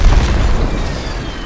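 A video game air strike lands as a heavy, close, low boom with a rolling rumble that decays over about a second and a half.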